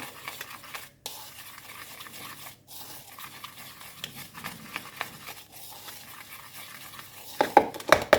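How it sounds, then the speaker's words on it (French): Flour for a pistachio dacquoise is sifted with a spoon pushed around a sieve, producing continuous soft close scraping and brushing strokes with brief pauses and a few louder taps near the end. "je vais venir un peu tamiser la farine"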